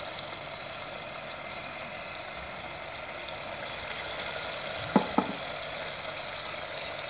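Green chillies fry in a pan with a faint, steady sizzle, joined by two quick close clicks near the end.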